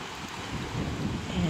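Atlantic Ocean waves surge against an eroded sea cliff with two tunnels at Dungeon Provincial Park near Bonavista, Newfoundland, a steady low rumbling wash mixed with wind buffeting the microphone.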